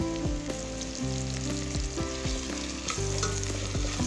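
Chili paste being stir-fried in hot oil for a field rat curry, with a continuous loud sizzle and repeated scraping strokes of a utensil against the pan.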